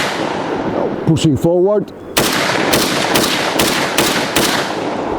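An AK-47 rifle fires from a freshly reloaded Xtech Tactical magazine: after a brief voice, six loud, sharp shots ring out at a steady, deliberate pace, close by.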